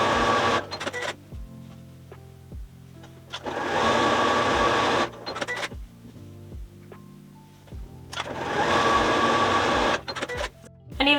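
A sewing machine joins quilt squares into rows for a cushion cover, bursts of fast mechanical whirring that start and stop several times, with clicks and handling noises between runs.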